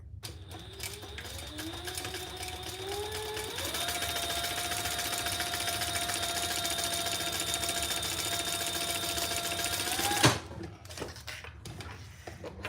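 A home sewing machine top stitching a slip pocket on a purse accessory runs steadily for about ten seconds, its motor whine stepping up in pitch partway through, then stops with a small clunk before quiet room noise.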